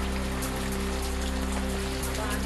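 Heavy monsoon rain pours over the flooded Bhigwan area, a dense and steady roar that fills the whole clip, with a low hum underneath.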